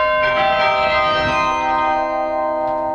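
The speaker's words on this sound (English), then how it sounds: "we've got an instrument that's playing real bells." Carillon bells in a church tower played from a keyboard, several overlapping bell strikes ringing out loud and sustained with a long shimmering decay.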